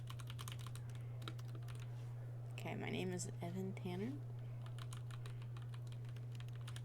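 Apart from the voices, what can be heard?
typing random keys on a computer keyboard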